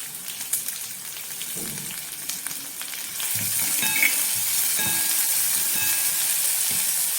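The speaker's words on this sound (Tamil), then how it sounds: "வெங்காயம் நல்லா வதங்கிச்சு" Large onions sauté in a pan for spicy kuzhi paniyaram, a hissing sizzle with a few stirring knocks that swells louder and steadier partway through.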